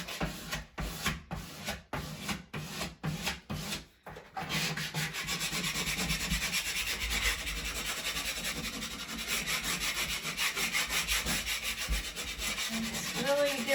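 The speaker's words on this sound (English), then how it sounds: "Really give it a good scrape so that it will stick to the wall." Plastic credit card scraping firmly across a vinyl cowboy wall decal, pressing it onto a bedroom wall: a few short separate strokes at first, then a long steady close rubbing scrape that continues alone.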